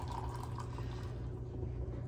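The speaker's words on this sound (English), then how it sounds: "right now I'm just pouring myself a cup of coffee to take with me" Coffee poured into a cup from a pot in a home kitchen, a steady low liquid trickle running throughout with no talking.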